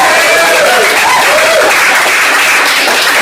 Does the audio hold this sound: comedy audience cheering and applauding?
yes